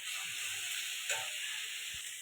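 Red amaranth greens frying in a pan give off a steady, close sizzling hiss, constant throughout with one brief stir partway through.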